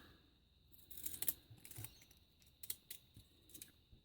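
Scissors trimming a small paper ruffle: a few quiet, close snips and crisp paper rustles spread across a few seconds, with no speech.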